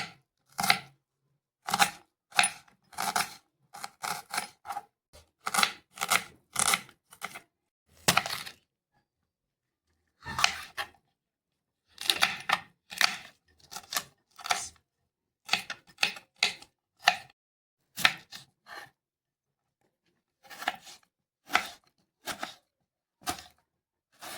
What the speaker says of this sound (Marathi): कांदा, टमाटर, शिमला मिरची चांगली बारीक करून घ्या